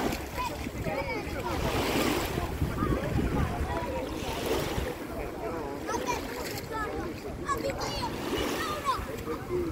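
Waves wash onto a busy Mediterranean beach near Rome, a steady surf roar with splashes and wind buffeting the microphone, while people talk and crowd voices carry throughout.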